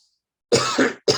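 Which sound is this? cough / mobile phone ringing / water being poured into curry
cough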